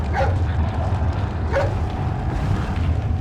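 Dog barking in the Resident Evil 4 video game, a couple of short yelping barks over a dense rumbling game soundscape.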